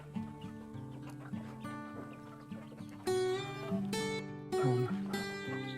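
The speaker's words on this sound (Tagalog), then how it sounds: "Ngayon, bibisitahin natin yung mga manukan ni Kap. Mga native, mga kaparmers" Native chickens in farm coops clucking and crowing, several birds calling over one another at close range in a busy, overlapping chorus.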